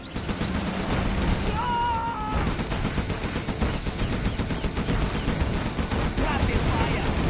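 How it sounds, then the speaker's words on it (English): Rapid, loud automatic gunfire from a spinning-barrel gun in Command & Conquer Generals, a dense continuous rattle sustained throughout amid battle noise, with brief whistling tones early on. "Gun barrel spinning."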